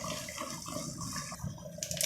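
Two cups of hot water poured into a cooking pot holding cabbage, a steady close splashing pour lasting a couple of seconds with no talk over it.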